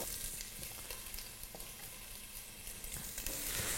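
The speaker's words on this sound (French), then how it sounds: "On va cuire maintenant la courge, de l'oignon" Squash and onion sizzling in a pan for a pumpkin soup, a steady close frying hiss with faint stirring ticks throughout.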